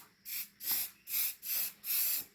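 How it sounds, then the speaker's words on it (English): Spray gun laying a light first coat of paint onto a Coleman mini bike, heard as five even, loud hissing bursts, each about a third of a second long, with short pauses between them. "When you're actually doing your first spray coat, you gotta keep it light."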